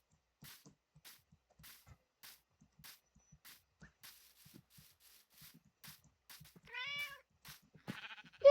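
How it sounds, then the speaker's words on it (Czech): A cat in the Minecraft video game gives two short meows near the end, after a stretch of soft, evenly spaced footstep-like clicks against a quiet background. "Ta kočka je zase tady."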